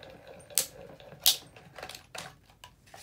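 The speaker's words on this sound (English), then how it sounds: "I'm gonna cut this out with my little trusty die machine over here." A small portable die cutting machine presses a die through paper for a stamping make-and-take craft, heard as a few sharp, close clicks and clunks with soft mechanical rustling between them, no voices.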